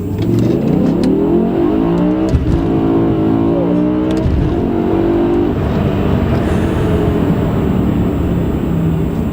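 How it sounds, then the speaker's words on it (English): A four-door sedan accelerating hard with traction control off, its engine note climbing in rising sweeps broken by quick gear shifts, loud and close with no voices. "listen to these shifts, how fast they go"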